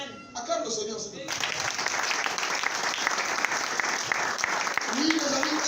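A church congregation breaks into sustained, dense applause during a sermon, and a preacher's voice is heard briefly near the start.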